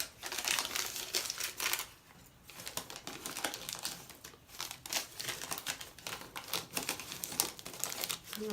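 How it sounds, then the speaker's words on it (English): A paper bag is folded and crumpled up close, producing continuous crinkling and rustling with short pauses between handfuls. "fold up some paper bag that some of these were in"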